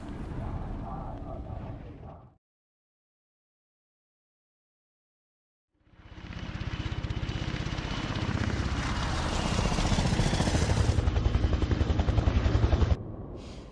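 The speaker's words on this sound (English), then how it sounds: "Boss sends his own private helicopter to get an agent back." Private helicopter in the video game Beyond: Two Souls, with steady rapid rotor chopping and engine whir that cuts out to silence and then returns louder, swelling over several seconds.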